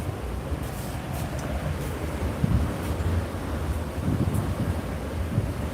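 Wind of about 20 miles an hour blows across a beach during Hurricane Idalia, making a steady, rushing roar with occasional gusts and faint buffeting against the microphone. No one speaks.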